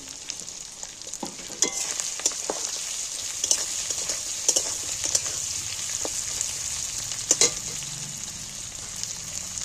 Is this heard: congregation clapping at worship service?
no